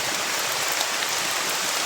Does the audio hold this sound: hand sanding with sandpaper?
no